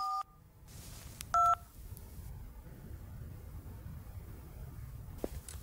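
Telephone keypad tones sound as a number is dialed: a couple of distinct clear beeps in quick succession near the start, then a quiet low background with faint clicks.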